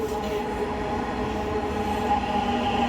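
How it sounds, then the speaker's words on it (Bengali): A Bangladeshi metro rail train pulls into a station on a winter morning, a steady loud rumble with tonal motor whine and rail hum rising slightly as it nears, no voices. "এই যে আমাদের মেট্রো আসতেছে"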